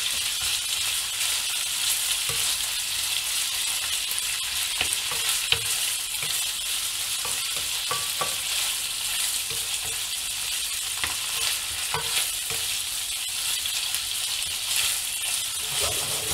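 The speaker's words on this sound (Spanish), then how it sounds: "el atún, que viene en aceite de girasol. Y lo movemos un poquito." Canned tuna in sunflower oil sizzles and fries in a pan while being stirred, a continuous loud crackle broken by scattered scraping and clinking taps of the utensil.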